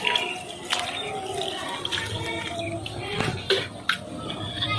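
Water from a lota is poured and splashed over the feet while washing them for wudu, the ritual ablution. Scattered splashes and drips land close by, with a few sharper spatters and faint clinks against a low background murmur.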